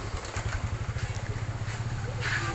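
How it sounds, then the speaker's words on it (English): A motorbike engine chugs in a rapid, even pulse inside a Cambodian market, moderately close and fairly quiet, with faint background activity. "of course, you still had motorbikes inside"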